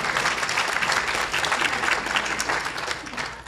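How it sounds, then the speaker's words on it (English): Audience applause at an author luncheon, a dense steady wash of clapping hands filling the room for several seconds without speech. "Give yourselves a round of applause."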